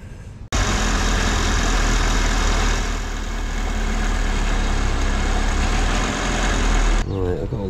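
A ratty roadster's engine idles on tick over while running too rich, a steady, close, continuous rumble that holds evenly for several seconds before cutting off near the end.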